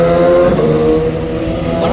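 A motorbike passes close by, its engine a loud, steady droning whine with clear tonal harmonics that shifts slightly in pitch as it goes past.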